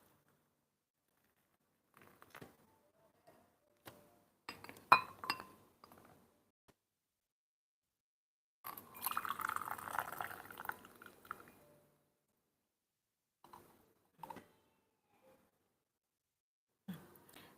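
Just-boiled water pours from a kettle held high into a vessel for Xuepian Dancong oolong tea, a faint splashing stream lasting a few seconds amid soft clinks of glass and porcelain in a quiet room.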